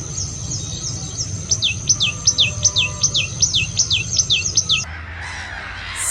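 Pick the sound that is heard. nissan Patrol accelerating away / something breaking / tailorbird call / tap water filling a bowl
tailorbird call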